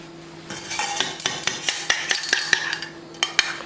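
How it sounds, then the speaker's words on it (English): A spoon ladles hollandaise sauce over an egg for eggs Benedict, making repeated light metallic clinks and taps against the dish in a quick, uneven rhythm. "we spoon it nicely over our egg"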